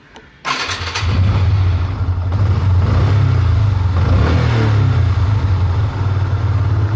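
A Yamaha FZ16 motorcycle with a choke cable problem and a misfiring fault is started, then keeps running loud and near with a rough, unsteady idle whose engine speed rises and falls.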